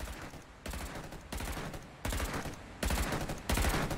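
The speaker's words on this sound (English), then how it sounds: "That is gunfire." Rapid bursts of automatic gunfire in sustained, dense volleys with a boomy low end, as heard through the soundtrack of the TV drama Bodyguard.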